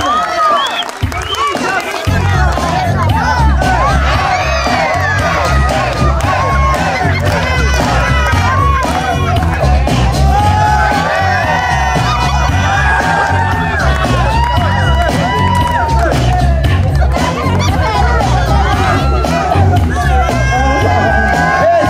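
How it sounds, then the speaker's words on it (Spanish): A lively crowd at a Michael Jackson themed contest show shouts and cheers loudly over a thumping beat, with scattered clapping throughout and excited voices close by. "Aplauso, por favor, para él."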